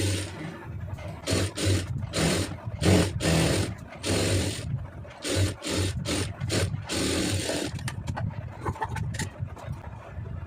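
A sewing machine stitches the front panel of a lined blouse in short bursts, its needle running in quick rhythmic runs separated by brief pauses, close and fairly loud with no talking.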